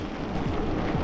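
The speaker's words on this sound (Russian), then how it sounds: "пошел дождь" Rain starting to fall during a spring electric-bike ride near Yalta, a brief soft wash of drops pattering on surfaces, heard faintly and alone.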